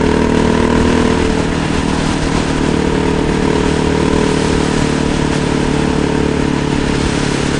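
A motorcycle engine drones loud and steady while riding on the road, with wind rush over a constant, close mid-pitched hum and no talking.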